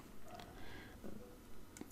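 A computer mouse clicks while a SketchUp 2022 file is being opened in Archicad, with a soft, sparse click and a sharper single click near the end over quiet room noise.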